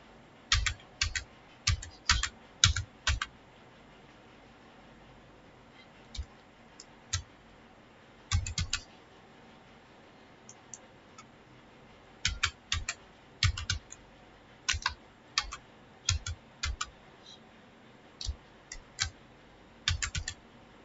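Someone types a new password on a computer keyboard: quiet clusters of crisp keystroke clicks come in short bursts separated by pauses, close by, with no speech.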